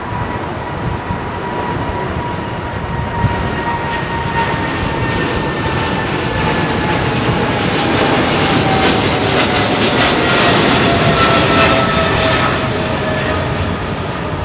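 A Qatar Airways 200-variant jet at Heathrow Airport roars steadily throughout, a loud continuous engine rush with a whining tone that swells slightly toward the end, with no talking.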